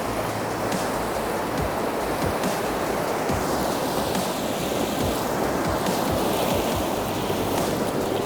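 Cold river water rushes steadily through Kumrat Valley, a loud continuous churning roar close by, with no talking.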